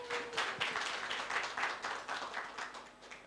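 An audience at a conference summit in Nairobi applauds to welcome a speaker, with a moderately distant round of clapping that rises and falls in rough waves.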